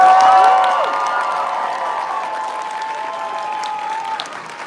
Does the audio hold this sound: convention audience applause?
yes